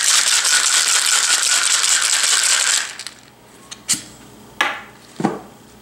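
Ice rattles hard inside a metal cocktail shaker while mixing a vodka cranberry drink, for a few seconds, then stops; a few sharp clinks and knocks follow.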